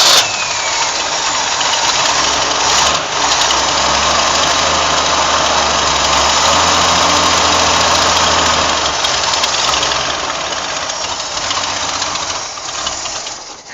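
An old 1960 Ford Falcon Ranchero engine, a barn find, runs steadily and loudly throughout, a rough idle with a knocking, vibrating rumble and no voices.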